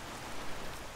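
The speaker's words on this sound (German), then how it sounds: "Scheiß Regen, ey." Steady rain pattering on surfaces in the fantasy role-playing game Arcania: Gothic 4, a dense, even wash of drops that stays fairly loud throughout with no voices.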